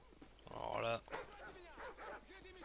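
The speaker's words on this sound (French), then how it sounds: "Les chiens." Dogs barking and whimpering in the video game Call of Duty 4: Modern Warfare, with a whining, rising yelp that builds loud, then a few shorter yips and barks, tangled with game voices and talk.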